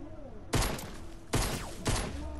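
Gunfire in Fortnite: three loud bursts of shots hitting close together at regular intervals, each trailing off into a ringing decay, with no talking over them.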